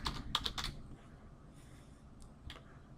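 A short burst of quick keystrokes on a computer keyboard, fairly close and soft, then a pause and a couple of single taps, with no talking.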